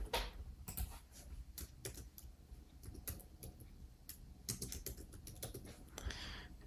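Someone types text on a computer keyboard. The key clicks come in quick, uneven runs and are quiet and close, with no talk.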